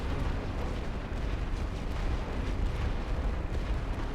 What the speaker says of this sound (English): he's got 2 different artillery pieces firing now